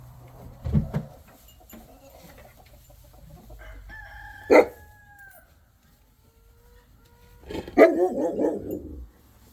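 A dog on a farm gives a few separate, sharp barks, with a rooster crowing and fowl clucking in the background.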